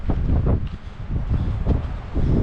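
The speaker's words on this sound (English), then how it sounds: "that wind is blowing" Strong wind buffeting an exposed ridgetop, a continuous loud low roar with gusty surges pressing on the microphone, no voices.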